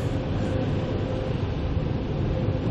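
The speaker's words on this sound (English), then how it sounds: "It's gonna get kind of loud because of the jet engines here." Steady, loud roaring air blasting continuously with a deep rumble from car wash air dryers blowing at close range.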